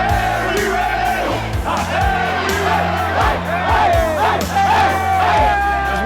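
Basketball game crowd of Lansing and Highland Park fans in a gym, cheering, yelling and whooping loudly and continuously, with shouts rising above the din.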